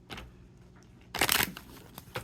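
A small stack of sixteen tarot court cards is shuffled by hand nearby: faint handling and rustling, then a sharp, crisp riffle burst about a second long, followed by light card taps.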